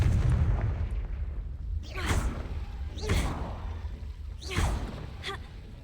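A Confringo blasting spell is cast in a video game, giving three sharp whooshing bursts about a second apart over a low, steady rumble.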